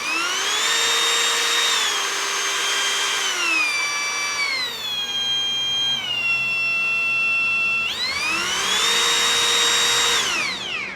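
Brand-new Mellif brushless cordless trim router switched on and running out of the box, a loud steady high-pitched whine that ramps up, dips in pitch twice, then spins up again and winds down.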